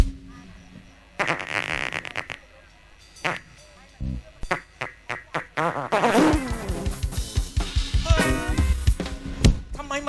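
On a Thai comedy stage, a performer imitates a woman's fart with a string of short, buzzy blasts of varying length, followed by a rapid sputtering run, loud and close among bursts of talk and laughter.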